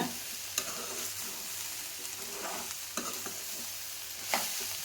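Bitter gourd stir-frying in oil in a kadai, a steady sizzle with several sharp scraping strokes of a spatula as it is mixed, close and clear, no talking.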